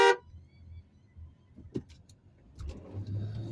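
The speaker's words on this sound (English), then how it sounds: "Give you a little honk." A short car horn honk sounds at the very start, followed by a low engine rumble and scattered traffic noises.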